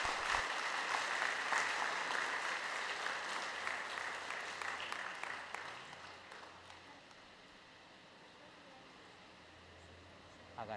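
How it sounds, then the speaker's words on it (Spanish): A congregation claps at a Catholic parish baptism, a broad crowd applause that is strong at first and then gradually thins and fades to a quiet tail, heard at low level. "Aplauso."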